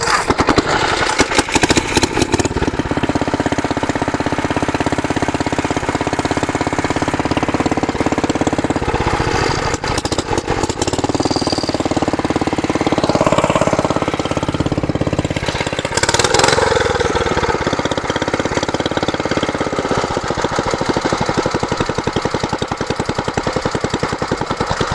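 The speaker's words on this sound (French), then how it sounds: "Alors je vais le démarrer, puis on va soulever les pommes de terre" Engine of a potato lifting machine running steadily and loudly throughout during a potato harvest in northern France, a continuous mid-pitched drone with slight variations in pace and no talking.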